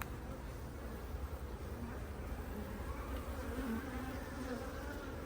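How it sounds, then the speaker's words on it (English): Honeybees buzz steadily at an open hive among drone brood and queen cells, a dense continuous hum close by with no speech. "There's these bees."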